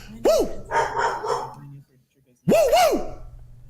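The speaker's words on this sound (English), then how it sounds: "Your dog starts wooing like Ric Flair" A dog lets out a rising-and-falling 'woo' howl twice, with a pause between, close by and loud, mixed with human talk and vocal sounds in a home setting during a basketball game broadcast.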